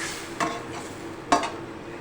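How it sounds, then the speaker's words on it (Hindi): A masala of chopped garlic, ginger, tomato, chili sauce, soy sauce, red chili and salt fries in oil, giving a steady close sizzle with two brief clinks of a spoon stirring the pan. "ये खूब अच्छी तरह अभी मसाला देखिए भुन सा गया है, फ्राई हो गया है"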